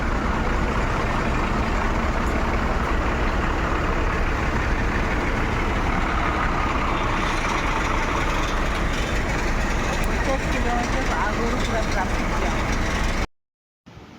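Steady, loud road rumble of trucks and other vehicles idling and crawling in a long traffic jam on the way to the Kumbh Mela, continuous broadband engine drone throughout, cutting out abruptly near the end.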